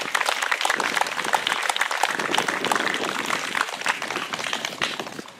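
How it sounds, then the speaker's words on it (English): A crowd applauds MVPs at the close of a youth pro soccer clinic, sustained dense clapping from many hands for about five seconds, fading slightly at the end. "Can we give all of our MVPs a round of applause?"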